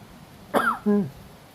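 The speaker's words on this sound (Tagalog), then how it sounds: "Inuubo na pati ko." Two short, harsh coughs close to the microphone, one right after the other, against quiet background noise, outdoors on a cold, rainy day at Barr Lake State Park, Colorado.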